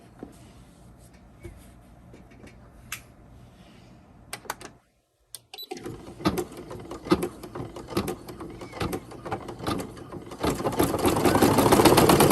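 Embroidery machine stitching around a bow fabric appliqué during a fringe design project, a steady mechanical whir with rapid needle clatter that stops briefly, then resumes louder and denser toward the end.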